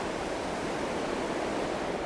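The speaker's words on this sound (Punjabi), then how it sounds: "ਇੱਥੇ ਪਾਣੀ ਬਹੁਤ ਵਧੀਆ ਲੱਗਦਾ ਇੱਥੇ ਚੰਗਾ ਵਗਦਾ" River water rushes through a garden in Germany, a constant, even roar of flowing water heard up close with no voices.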